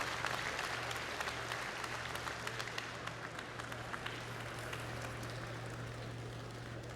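A crowd at a political gathering of the United National Movement applauds to welcome the mayor of Tsalenjikha, with dense, sustained clapping that holds steady for the whole stretch.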